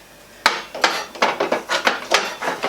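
Hard plastic and metal parts of a Magimix 5200 XL food processor whisk attachment clack and knock as they are handled, about ten sharp irregular knocks close up, no talking.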